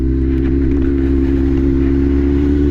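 A Suzuki GSX-R1000 motorcycle engine runs steadily close by, a loud, continuous low rumble holding an even tone with no voices over it.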